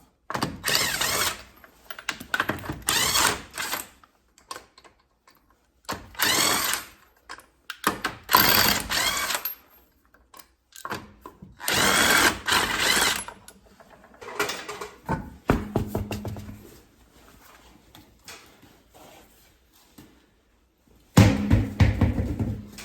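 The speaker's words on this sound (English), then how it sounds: "I got a 21 millimeter on this little DeWalt impact wrench" Small DeWalt impact wrench with a 21 mm socket spinning lug nuts off a car wheel, several loud, short buzzing bursts separated by pauses and faint clinks, close by.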